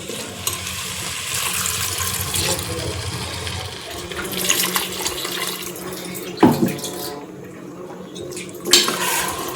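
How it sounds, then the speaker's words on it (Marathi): Water splashes and pours into a pan of sautéed vegetables amid clattering cookware, with a couple of sharper clinks near the end. "आता आपण थोडं ह्याच्यात पाणी घालूया."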